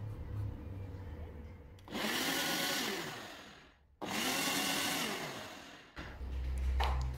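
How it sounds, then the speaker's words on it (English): A blender whirs loudly in two long bursts making a baby smoothie with oat powder, pausing briefly between them, with a low hum before and after. "So all you have to do is just blend."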